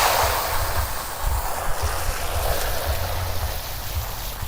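Clean water runs through a Graco TC Pro handheld paint sprayer, a continuous rushing, hissing flow with a low rumble underneath, close and fairly steady for several seconds, with no voices.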